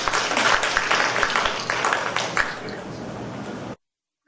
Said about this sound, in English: give a round of applause for Director General of TESDA